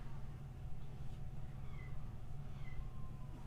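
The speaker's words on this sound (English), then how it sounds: "oh, there goes the little kitty starting to make noise." A little kitten meows faintly a couple of times in the background of a room with steady low hum and noise, brief high thin cries, no talking.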